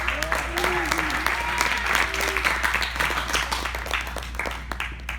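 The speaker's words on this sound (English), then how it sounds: "Can we get a round of applause one more time?" An audience breaks into applause, a dense wash of clapping, while voices call out and a few cheers rise over it.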